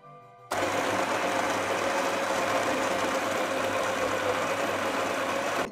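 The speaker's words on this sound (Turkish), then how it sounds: "Kahvemi öğütüyorum." An electric grinder grinds coffee beans for espresso, a loud, steady mechanical whir that starts abruptly after a brief quiet moment and runs continuously without pause.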